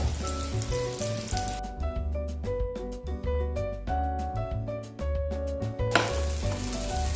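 Kebabs fry in a pan, giving off a continuous sizzle beneath prominent background music with tonal notes.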